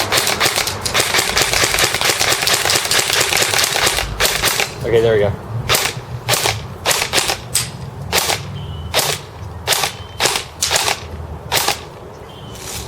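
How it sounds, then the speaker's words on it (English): A gun fitted with a Prometheus 407mm tightbore barrel dry firing: after talking voices, a series of sharp, loud metallic clicks snaps out one after another at an uneven pace, with occasional speech in between. "Go ahead and dry fire a few times"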